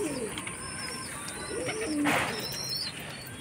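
Domestic pigeons kept in a home coop with newly hatched chicks coo softly and repeatedly at close range, their low rolling calls over a steady background hiss.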